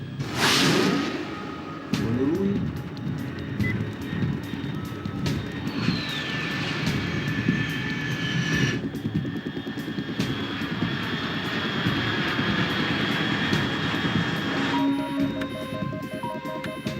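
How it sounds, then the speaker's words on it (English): A fast, unidentified aircraft at 30,000 feet in Metal Gear Solid 3 roars overhead, a loud sustained engine drone with a whooshing sweep and high whine, rising at the start and holding steady throughout. "Unidentified aircraft detected."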